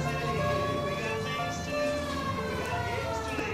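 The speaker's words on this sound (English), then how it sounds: "They heard the siren and just toppled over." A siren wails continuously in the L.A. Noire video game, with steady harmonic tones holding at a loud level throughout, mixed with game background noise and talking.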